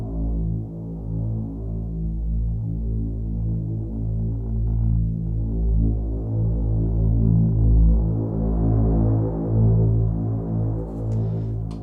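A pulsing Generate Noire synthesizer patch with the mod wheel engaged, a deep throbbing drone with steady rhythmic pulses that builds subtly in brightness and intensity, loud and sustained with no voices.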